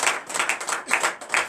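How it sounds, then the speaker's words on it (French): Church congregation clapping together during a morning prayer service, a steady rhythmic beat of about four claps per second, close and fairly loud, with no talking. "Donnez l'acclamation à l'Éternel."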